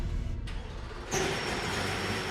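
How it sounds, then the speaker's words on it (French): The V8 engine of a Mercedes-Benz CLK LM race car fires up, a short pause then a sudden loud catch into a steady, rough idle that continues to the end, with no talk. "Maintenant, on démarre le moteur, le V8."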